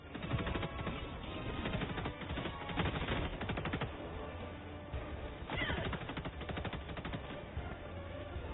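Rapid automatic gunfire from a sickle weapon mowing down bots in a video game, a dense, continuous rattling burst of shots that runs throughout with short pauses.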